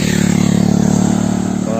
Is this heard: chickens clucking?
no